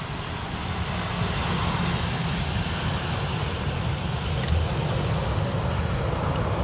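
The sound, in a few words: KLM Boeing 737 airliner arriving at Schiphol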